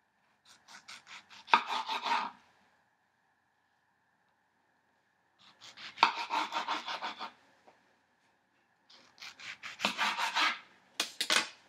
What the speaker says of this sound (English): next I'm going to cut the tomatoes in half, just like this